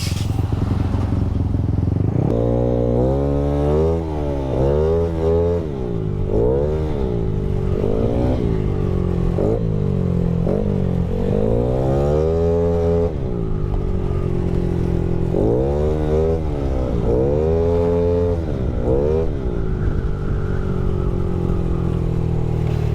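A Yamaha Aerox V2 scooter engine built to 220cc revs repeatedly in sharp bursts, pitch climbing and dropping with each throttle blip, loud and close with a steady idle rumble between.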